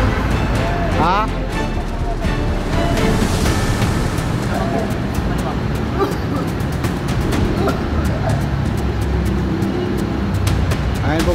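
Water sprays in a steady, loud rushing hiss over a brand-new MAN bus during washing, continuous throughout, with voices talking and a dog barking now and then.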